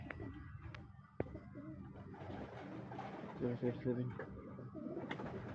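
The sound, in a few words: racing pigeons cooing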